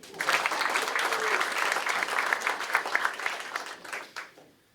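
An audience at a Lamar University press event introducing a new men's basketball head coach breaks into sustained applause with some cheering, loud and steady for several seconds before fading out at the end.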